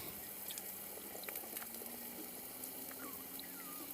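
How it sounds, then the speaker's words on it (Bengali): Winter vegetables are rinsed under running water in a village kitchen, a steady faint stream of splashing and trickling with small clinks, no talk. "এই ফাঁকে আমি তরকারিগুলো ধুয়ে নিব"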